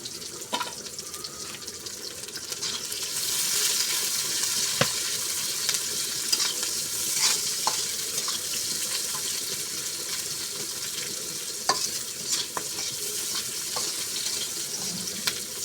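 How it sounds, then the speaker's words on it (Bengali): Chopped garlic, onion and green chillies fry with cumin seeds in hot oil, a steady bright sizzle lasting throughout with occasional stirring clicks and scrapes, close and continuous. "এভাবে করে লাল করে ভাজে নিব।"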